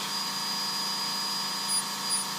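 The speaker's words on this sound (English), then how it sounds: "there is a portion of the ball burr that actually remains on the piece as I'm cutting" A rotary tool fitted with a ball burr cuts into metal, giving a continuous, even, high-pitched grinding whine at close range with no pauses, heard alone without talk.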